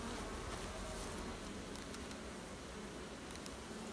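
Honeybees at an open beehive with a frame lifted out, giving a steady, dense buzzing hum that holds throughout without any talking.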